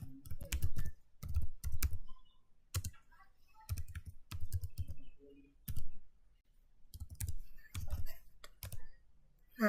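Bursts of computer keyboard typing in a networking lab, quick clusters of clicking keystrokes separated by short pauses, close and clear with no talk over them.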